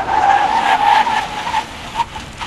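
A car braking hard from 100 kph on a dry surface during a tyre test, with a loud sustained tyre squeal and skid that fades toward a stop, close and without talk.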